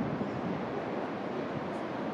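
Ocean surf washing continuously onto the beach at Lacanau, a steady broadband roar with wind buffeting the microphone, no voices.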